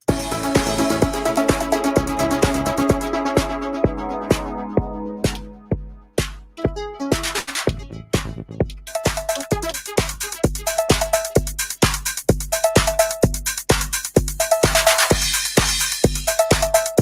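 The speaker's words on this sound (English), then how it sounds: "Let's just play the drums on their own." Electronic drums on Korg gear play alone in a steady, punchy pattern of kicks, snares and hi-hats, with a brief break before the groove resumes.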